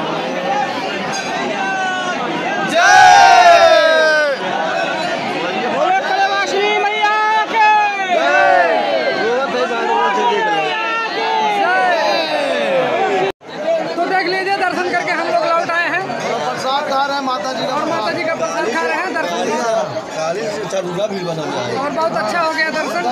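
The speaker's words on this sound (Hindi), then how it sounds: "देखिए माँ के भक्तों का भीड़ कितना है" A dense crowd of devotees at a Hindu goddess temple, Sheetla Dham in Kaushambi, fills the air with steady chatter and babble, many voices overlapping close by, with one brief break partway through before the hubbub resumes.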